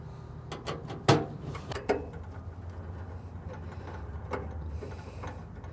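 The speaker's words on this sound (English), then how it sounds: "we're going to start by removing these 4 bottom screws" A long, skinny Phillips screwdriver backs out the bottom screws of a Camp Chef XXL Pro grill, giving a few sharp metallic clicks and ticks early on, then faint scraping in a quiet room.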